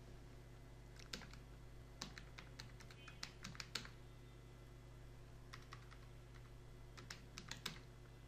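Typing on a computer keyboard while writing in Microsoft Word, scattered clusters of light key clicks with pauses between them, quiet and close over a steady low electrical hum.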